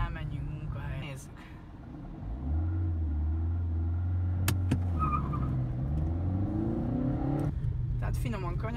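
An Opel Corsa 1.3 CDTI diesel car pulls away and drives, its low engine drone rising and settling through gear changes, heard from inside the cabin with someone talking over it.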